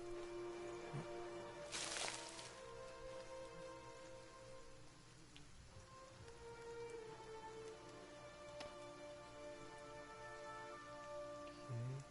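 Steady rain falls in Pillars of Eternity, a soft continuous patter with occasional faint drips and small knocks over a low ambient hum.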